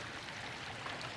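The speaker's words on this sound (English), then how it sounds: "yeah, another waterfall." A waterfall on a nature walk makes a steady, dense rushing hiss that stays even through a very short stretch.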